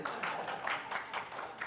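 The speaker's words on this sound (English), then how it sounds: "One more applause, please." A small symposium audience claps in repeated, uneven bursts, a modest and steady patter of hands heard nearby without any speech.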